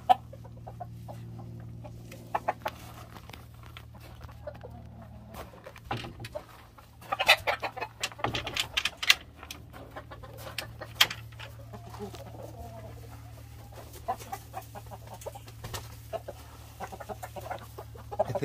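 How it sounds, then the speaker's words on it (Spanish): A large gamecock clucking and calling in a rooster yard, with intermittent short clucks and bursts scattered across a steady low hum, moderately close and with no talk. "Este gallo, un gallo grande."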